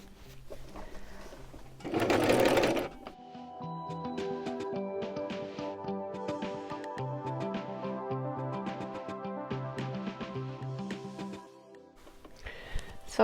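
A sewing machine stitching a patchwork quilt runs steadily with a rapid mechanical stitching whir, preceded by a brief burst of rustling handling noise, then stops near the end.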